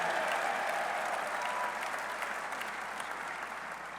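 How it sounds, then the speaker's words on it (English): Dense applause from a crowd at a WVU football coach's introductory press conference, steady and full for a few seconds before easing slightly. "give that a round of applause"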